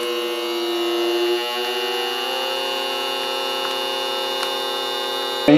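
An AP-18 vacuum sealer runs its dry seal cycle with a steady electric hum and a high whine, a brief dip partway through, then a sharp click at the very end.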